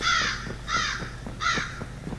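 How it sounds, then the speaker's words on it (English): In a Backrooms video, crows give three loud, harsh caws at regular intervals, close and clear, with faint softer calls and knocks between them. "Birds in the back rooms"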